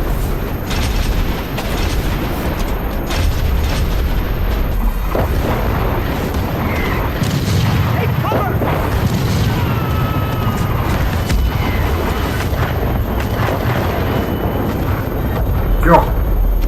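Artillery batteries open fire in a Star Wars scene, a continuous low rumble of booms and explosions with shouted voices over the barrage.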